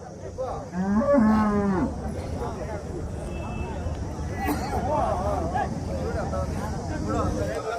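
Cattle at the Chintamani cattle market in Karnataka give a loud, nearby moo early on, followed by more distant lowing over a busy crowd hubbub and people talking.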